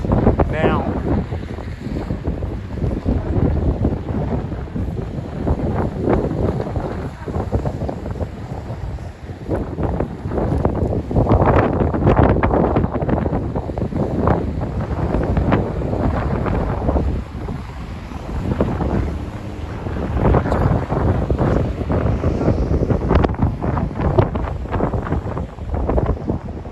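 Strong gusty wind blowing along a street on Vasilyevsky Island in St Petersburg, buffeting the microphone in loud surging bursts, with a voice talking at times.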